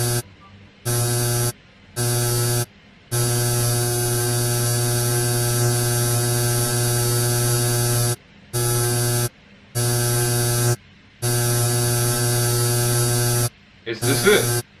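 A prank razor phone app gives off a steady electric buzz, loud and constant, that switches on and off in several bursts with short silent gaps between them.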